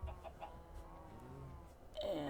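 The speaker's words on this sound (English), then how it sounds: "Alright, chickens in a fence." Chickens clucking inside a fenced pen in a survival video game, a few short clucks near the start over low background hum, followed by a louder tonal bird call at the end.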